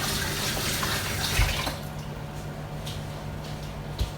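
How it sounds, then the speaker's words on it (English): Hands are washed under a running kitchen tap while baking a coconut, raspberry and lime meringue slice: a steady close splashing stream of water with a couple of soft knocks, no talking. "I'm going to wash my hands"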